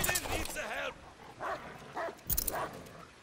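Guard dog in Call of Duty Vanguard gives a few short, sharp barks and yips, loud and close, mixed in with speech and game noise.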